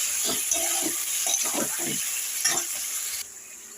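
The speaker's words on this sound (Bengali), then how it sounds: "এখন আমি 2 মিনিট মতো এই মাংসগুলো এই তেলের ভেতরে ভেজে নেব।" Chicken pieces frying in hot oil in a wok, a continuous close sizzle with bursts of spatter and stirring scrapes at an even rhythm, no voices.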